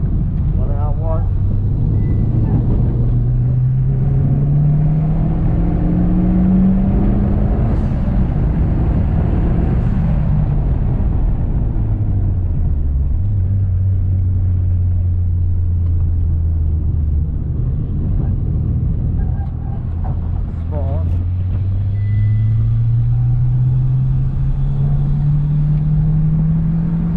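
Mitsubishi Lancer Evolution X engine heard from inside the cabin while driven hard at drift limits, a steady low rumble with pitch rising and falling through gear changes and corners, with occasional talk over it.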